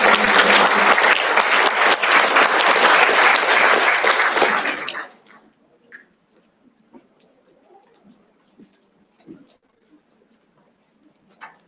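Loud crowd applause at an IYSCA 2016 event, a thick wash of clapping for about five seconds that stops abruptly, followed by near silence with a few faint scattered sounds.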